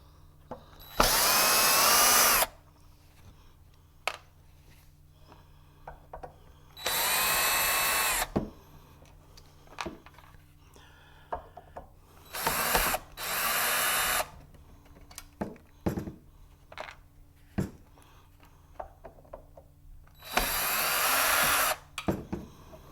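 A power drill backs screws out of a Giandel 5000 watt power converter in four loud, sustained bursts of a couple of seconds each, separated by quieter handling clicks and taps.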